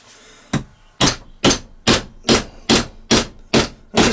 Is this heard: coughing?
no